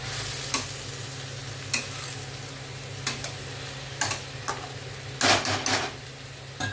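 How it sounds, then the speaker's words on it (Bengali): Rice being stirred into chicken masala pulao in a pan: a continuous frying sizzle with spaced scraping strokes of a spoon, a short cluster of quicker stirring near the end, over a low steady hum. "চালটা দিচ্ছি, চালটার সঙ্গে একটু মিশিয়ে দিচ্ছি।"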